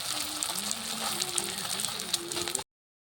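A semolina and capsicum chilka fries in oil in a wok, giving a steady close sizzle with faint crackles and a low hum, then cutting off abruptly.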